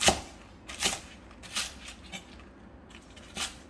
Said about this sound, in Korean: 쪽파 이제 머리 부분은 이렇게 뜯어 주세요. 부드럽게. 그다음에 송송 썰어 주세요.